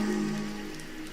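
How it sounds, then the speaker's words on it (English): Rain falls steadily on an autumn evening, a soft continuous patter of drops on a surface, close and even with no voices. "listening to the sound of the rain late in this autumn evening"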